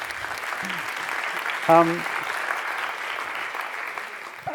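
A conference audience at a European Development Days 2015 panel event applauds with a steady, moderately loud clatter. A voice briefly speaks over the clapping midway, and the applause thins out toward the end.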